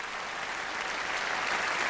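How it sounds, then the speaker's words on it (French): Audience applause in a hall for a performer's wife, a steady dense wash of clapping held at even loudness throughout with no voices over it. "si vous pouvez l'applaudir."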